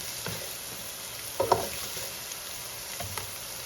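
Onions fry in a pot with a steady, quiet broadband sizzle, plus a few soft stirring knocks near the middle and at the end.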